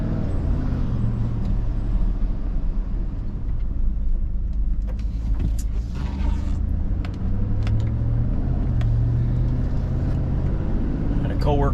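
Car driving along a road during a brake check, with a steady loud engine and road rumble throughout and a few brief clicks and squeaks over it.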